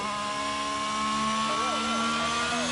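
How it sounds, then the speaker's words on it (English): Race car engine in a racing video game at the Jeddah circuit, a steady sustained drone with whining harmonics that dip and climb as the car shifts up early through a corner, continuous and loud throughout. "the early upshift there, that's what you want through this corner."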